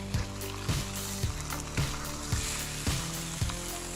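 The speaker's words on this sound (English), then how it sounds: "Oh, hear that sizzle." Red snapper fillet sizzles loudly skin side down in a very hot pan, a constant crackling hiss with a rhythmic low thumping pulsing underneath about twice per second.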